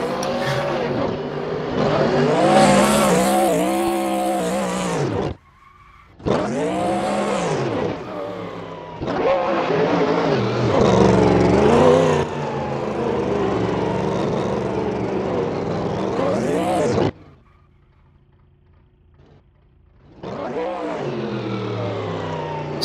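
A BMW E92 drift car roars through repeated runs at a drift competition, its engine revving hard and rising in pitch while the tires squeal, in loud bursts separated by short gaps, with a commentator talking over it.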